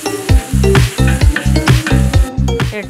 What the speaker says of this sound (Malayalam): ഇഞ്ചി, വെളുത്തുള്ളി, ചെറിയ ഉള്ളി ഇവ ചതച്ച് ഇടും.